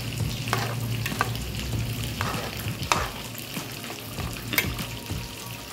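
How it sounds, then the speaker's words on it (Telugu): Fish pieces being stirred into curry masala in a pan, a steady sizzle with soft scraping strokes and occasional sharp clinks of the spoon, fairly close, with no talk. "కాబట్టి ఇవి కాస్త గట్టిగా ఉన్నప్పుడే వీటిని కలిపేద్దాము."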